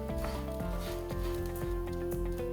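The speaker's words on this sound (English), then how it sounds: "And it goes in now with the onions. And we're just gonna saute for a little bit." Rice and onions sauté for saffron risotto, giving a soft, steady sizzle with faint stirring scrapes beneath an even, droning background tone.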